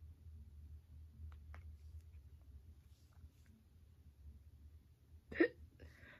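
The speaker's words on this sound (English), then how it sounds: "sorry to hiccup in there." A single hiccup from a man partway through a wrestling commentary recording, fairly loud and abrupt against a quiet background hum, with a faint click or two earlier and no speech over it.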